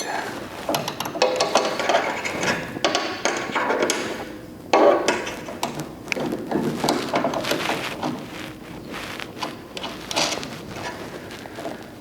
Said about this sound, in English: See if we can get this nut loose.